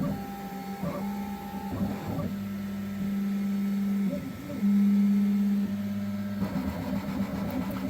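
A Bambu X1C carbon 3D printer runs in sport mode, its stepper motors whining in steady sustained tones that shift pitch as moves change, with a louder buzzing stretch midway and a close, humming presence.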